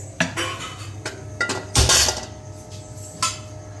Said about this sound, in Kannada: ಸ್ಟವ್ ಮೇಲೆ ಪಾತ್ರೆ ಇಡಿ, ಸ್ಟವ್ ಆನ್ ಮಾಡ್ಕೊಳ್ಳೋಣ.